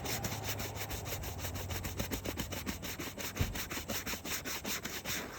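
Rhythmic back-and-forth scrubbing on a 2011 Chevy Suburban car seat, quick even strokes repeating steadily at close range with a rough rasping texture.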